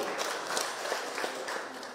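A crowd claps and cheers at a political gathering with a governor present. The steady applause runs without a break, with brief louder bursts throughout.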